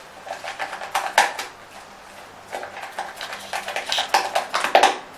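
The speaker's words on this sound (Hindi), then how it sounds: "इसको हमने ना अच्छी तरह मिक्स करना है।" A spoon mixes colored Independence Day cake batter in a bowl, making quick runs of clinks and scraping taps in two bursts, close and fairly loud.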